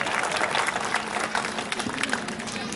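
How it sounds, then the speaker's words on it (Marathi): A crowd at a village development-works inauguration in Nagar claps steadily to welcome the MLA: dense, sustained applause that holds at an even level throughout, with no voice over it. "जोरदार एकदा टाळ्या वाजून आमदार साहेबांचं स्वागत करावं"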